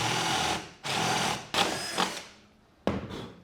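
A power drill bores a 22mm hole for a snug-fitting rubber hose on a wooden steam box for bending wood, running in a few close, loud bursts with short pauses and stops between them.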